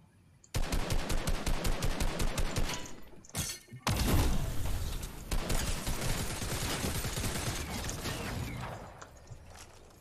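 Loud, dense gunfire from the Fortnite video game rattles in rapid automatic bursts nearly throughout, with a brief pause before heavier shots resume.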